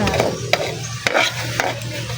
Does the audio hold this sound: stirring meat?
yes